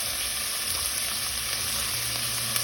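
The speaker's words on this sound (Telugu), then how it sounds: "వేసి బాగా ఫ్రై చేసుకోవాలండి" Tomato pieces and curry leaves fry in a pan with a steady, dense sizzle that stays constant throughout, with no voices over it.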